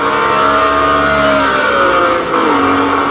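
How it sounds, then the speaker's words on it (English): A Group C race car engine in the racing game Project Cars 2 drones loudly and steadily, its pitch climbing and shifting as the car drives a lap. "I'm kind of having to speak over the noise of the car"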